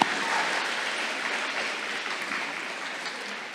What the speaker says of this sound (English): Okay, yeah, a little applause